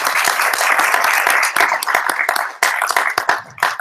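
An audience gives a round of applause at an executive prep event, a dense burst of many hands clapping that thins out unevenly toward the end.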